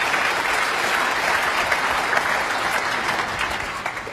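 A snooker crowd applauds a clever shot at the 2010 Masters at Wembley, Selby against Allen; dense, steady clapping fills the hall throughout and holds at a consistent loudness.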